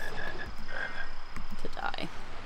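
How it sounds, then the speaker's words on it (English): A frog croaks in the Harry Potter and the Philosopher's Stone video game, giving a series of short, repeated croaks in a pulsing rhythm over quiet game ambience. "Oh no, it was the frog."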